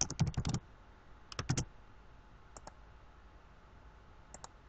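Lowercase text typed on a computer keyboard while working in Photoshop: a quick burst of key clicks, a second short burst, then a few isolated taps, close and fairly quiet against a low background.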